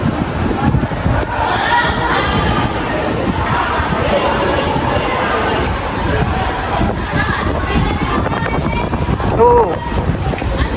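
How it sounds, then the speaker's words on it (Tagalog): Strong wind buffets the microphone in a steady roar at the seashore, with faint voices and murmuring mixed in beneath the gusts. "Malakas po ang hangin dito sa tabing dagat."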